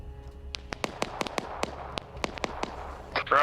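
Artillery fire strike called in during an Arma 3 World War Two battle: a rapid series of a dozen or so sharp, separate explosive cracks and thumps at uneven intervals, fairly close and loud, with a louder burst at the end.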